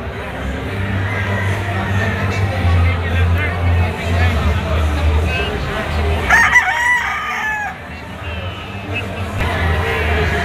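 A yellow-legged possum sweater gamefowl rooster crows a few times among other crowing and clucking birds at a crowded gamefowl expo, with a steady babble of voices throughout.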